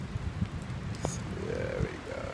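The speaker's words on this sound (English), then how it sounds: "on the beach on a really, really rainy day" Rain falls steadily on a beach in Barcelona, a constant soft hiss of drops with faint patters throughout, heard at low level with no voices.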